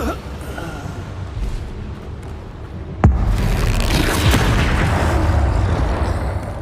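A Bombarda blasting spell goes off in Hogwarts Legacy, a single loud booming explosion that breaks in suddenly midway and leaves a sustained roaring, crackling rumble over the game's background ambience.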